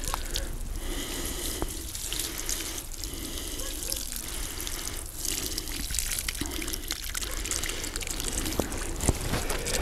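Water pours steadily onto soil around a freshly transplanted conifer in autumn, a continuous close splashing and trickling stream with small drips, running throughout.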